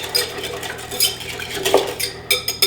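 Cranberry bread batter whisked in a bowl, a quiet run of irregular scraping and clinking strokes with short pauses between bursts.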